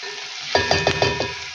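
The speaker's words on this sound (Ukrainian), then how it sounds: "Морква теж трошки вже обсмажилася." Carrots frying in a pan over low heat for a fish stew, giving a steady soft sizzle with five quick rhythmic stirring scrapes close by.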